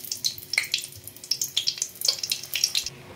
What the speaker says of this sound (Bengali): তেলটা প্রায় গরম, শুকনো লঙ্কা ফাটিয়ে দিয়ে দিচ্ছি।